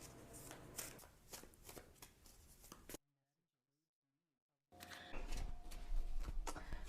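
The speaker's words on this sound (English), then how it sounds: "Give them a few more shuffles" Crisp riffling and flapping of a deck of tarot cards being shuffled, a short break of near silence, then more brisk card shuffling.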